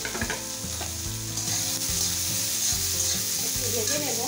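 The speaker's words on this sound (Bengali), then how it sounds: "একটু ভেজে নেব।" Capsicum and onion frying in ghee in a pan, a steady close sizzle with stirring scrapes and clinks running throughout, no voices.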